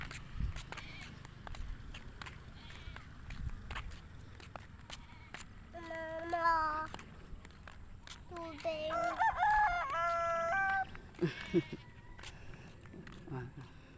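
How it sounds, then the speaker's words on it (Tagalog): A rooster crows twice amid outdoor ambience with scattered clucking, nearby rustling and footsteps, and people talking in the background. "yung manok namin nakakapunta na rin dito."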